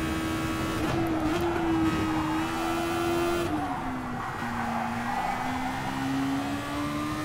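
A Super Formula race car in Gran Turismo Sport powers out of a turn in first gear at partial throttle, its engine holding a loud, steady, high tone while the tires squeal and skid, with no one talking.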